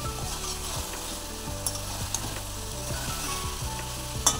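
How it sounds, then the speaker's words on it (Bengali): Potatoes sautéing with spices in a pan, a steady sizzle broken by scraping stirs with a spatula, close and fairly loud throughout. "আলুটা মশলার সাথে খুব ভালো করে কষিয়ে নিব।"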